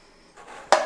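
A bowl or dish set down on a kitchen counter while pizza dough is prepared for resting, heard as a short ceramic clatter at the end of a quiet moment.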